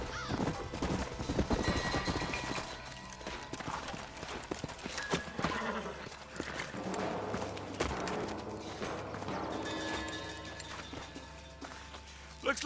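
Horses' hooves clip-clop on the ground in a Western video game scene, steady plodding steps mixed into a busy layer of game music and ambience with a voice talking over it.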